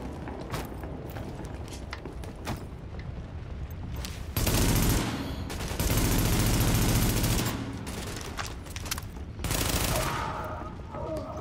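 A close-combat gun fires in the shooter game The Division, loud sustained bursts punctuating quieter stretches of mechanical clatter and softer shots.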